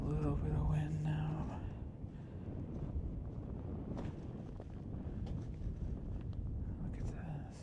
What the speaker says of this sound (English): There's a little bit of wind now.